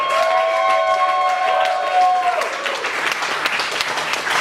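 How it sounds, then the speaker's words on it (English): At a comedy roast, a live audience breaks into warm applause for a comedian's mother-in-law, a broad sustained wash of many hands that follows a short voice and rolls on loud and full. "Please give her a warm round of applause."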